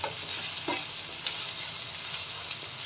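Onions with garlic paste, turmeric, chili and green chilies sizzle in hot oil while a spoon stirs them, a steady close frying hiss broken by soft scraping strokes.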